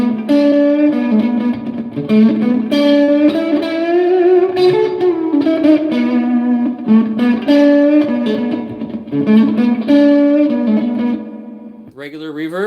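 Electric guitar played through a hairy, hard-to-tame HP Land Devices fuzz pedal into spring reverb, sustained distorted chords and notes ringing loud and continuous, breaking briefly near the end.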